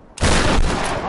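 Gunfire in the Tomb Raider video game, one loud close burst that hits hard and decays over about a second.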